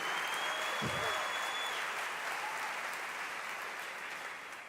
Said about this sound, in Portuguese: Aplauda bem forte ao Senhor pela vida deste.